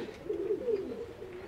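Soft, low pigeon cooing in a loft holding a large collection of fancy breeds such as Damascene, racer, Pakistani teddy, Bombay and king pigeons, a faint rolling coo lasting about a second.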